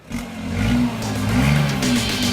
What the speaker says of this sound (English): Start the car and first you have to rev it to know that the ignition is actually on.